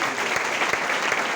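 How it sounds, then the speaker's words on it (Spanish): Applause from a church congregation during an evangelical service, a dense steady clapping that carries evenly through the short stretch with no voices over it. "Den aplauso a papá, por favor"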